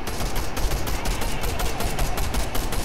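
Continuous dense gunfire in a Fortnite match, rapid overlapping shots forming a steady, loud barrage throughout without pause.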